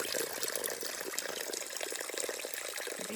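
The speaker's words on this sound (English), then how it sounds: "We used sticks to funnel the water." At a spring on the Appalachian Trail, water trickles and splashes through a funnel made of sticks, a soft continuous close-up flow with no voices.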